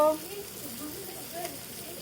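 Chicken sizzles and fries steadily in a pan with no oil while cumin is added, a continuous close crackle with light stirring.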